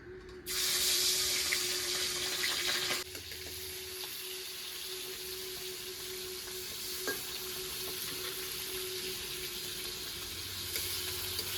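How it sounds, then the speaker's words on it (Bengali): Pabda fish coated in turmeric and salt go into hot oil, a loud burst of spitting sizzle at the start that settles into a softer, steady frying hiss, close by with no voices. "তেলটা গরম হয়ে গেছে এবার মাছগুলো ভেজে নিচ্ছি"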